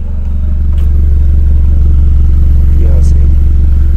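A 2019 BMW 320 fitted with a downpipe and exhaust diffuser idles close up with a deep, steady exhaust rumble, a brief light clatter and faint sounds of activity in the background.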